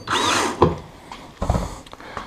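A power tool backs a screw out of a Skeeter fishing boat, two short whirring bursts close by with a brief pause between them.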